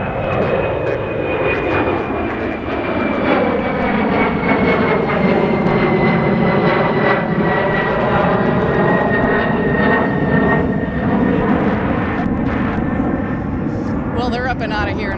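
Airliner departing Minneapolis-St. Paul airport, its engines roaring loud and steady throughout with a slowly falling whine, climbing away, with a voice speaking over it.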